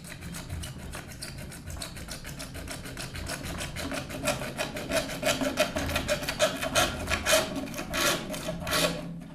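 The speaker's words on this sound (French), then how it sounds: "couper avec la scie un petit tube de 6 cm de longueur" A hand saw rasps back and forth through a small tube, cutting a 6 cm length for a reed, in quick, steady strokes, close by and with no talking.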